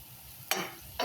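Chili peppers are added to a hot pan, two sharp sizzling bursts as they hit and are stirred, quiet between, close up with no talk.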